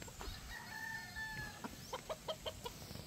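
A gamecock stag, a green-legged broodstag, crows with a drawn-out call, followed by a run of short, evenly spaced clucks close by, with no speech over it.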